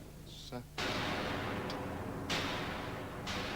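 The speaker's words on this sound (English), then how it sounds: "there's a fairly normal explosion. It's just coming out of there" A short chirp gives way to a sudden, sustained roaring blast of noise that rumbles on with slight swells, loud and close throughout.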